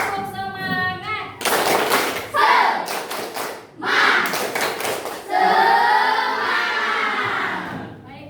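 Students repeat the tepuk semangat clapping ice-breaker in a classroom: loud, patterned clap bursts alternate with voices chanting together nearby.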